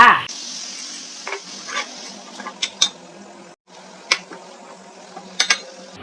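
Minced pork stir-fries in a pan with a little water added, hissing in a loud, steady sizzle. Scattered utensil clinks and scrapes from stirring sound close by, and there is a brief lull midway.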